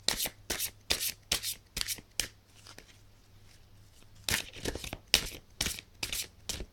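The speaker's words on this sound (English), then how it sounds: "I'm just going to shuffle these cards." Playing cards are shuffled in brisk riffling bursts, a pause of quiet handling, then another rapid round of crisp riffles close by.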